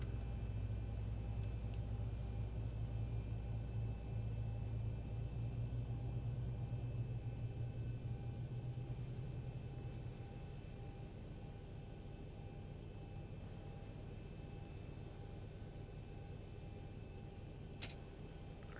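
A Boeing 737-800 jet engine spools up in X-Plane 11, a steady low rumble with a faint high whine, constant and moderately quiet without speech.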